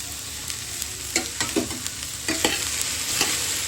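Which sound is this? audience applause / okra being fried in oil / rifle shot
okra being fried in oil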